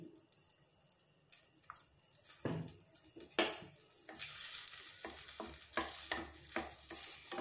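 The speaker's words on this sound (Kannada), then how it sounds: "ಬಟರ್ ಹಾಕಿದ್ದೀನಿ, ಹಾಗೆ ಸ್ವಲ್ಪ ಆಯಿಲ್ ಹಾಕ್ತೀನಿ." Butter and a little oil heat in a pan for restaurant-style palak paneer, giving a soft, steady sizzle that grows fuller after a few seconds, with occasional scrapes and clicks of a utensil stirring.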